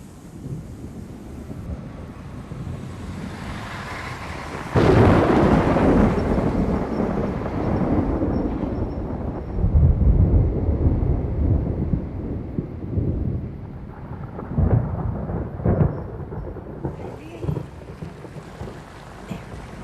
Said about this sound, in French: La tempête se rapproche.